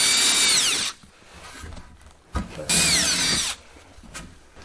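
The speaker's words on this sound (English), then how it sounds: "I will be drilling that all the way through" Power drill boring through solid wood for a DIY bed frame, two loud whining bursts with a short pause between, close up, followed by quieter handling noises and no speech.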